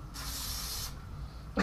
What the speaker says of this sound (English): Spray it more.